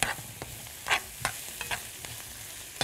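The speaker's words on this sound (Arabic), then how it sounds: "معلقة خل كبيرة كده اهي، وابدأ اقلب في البصل كله شوية" Onions sizzle softly in a pan after a large spoonful of vinegar goes in, with a utensil stirring them in scattered scrapes and clinks, close by and fairly quiet, no voices.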